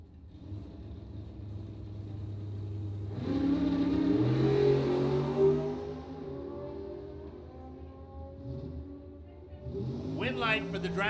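A Suzuki motorcycle at a drag race launches and pulls hard, its engine note rising into a loud, sustained rev of several seconds before fading, followed by a brief burst of another engine near the end.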